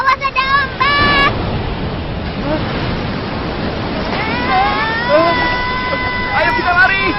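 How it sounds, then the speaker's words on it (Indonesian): Ocean waves wash loudly in a steady broadband roar on a beach, while high children's voices shout and call out over the surf. "awas ada ombak"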